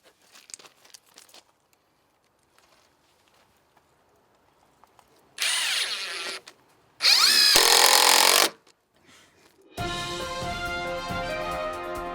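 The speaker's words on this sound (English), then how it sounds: "We're going to use 3-inch deck screws to make that happen." A power drill drives 3-inch deck screws into deck skirting in several short, loud bursts separated by quiet gaps, with faint handling noises in between.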